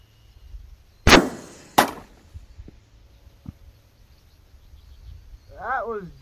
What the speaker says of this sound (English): We're going to put some rounds in this ballistics gel and see how it does.